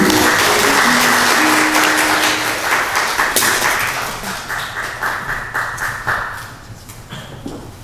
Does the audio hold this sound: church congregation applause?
yes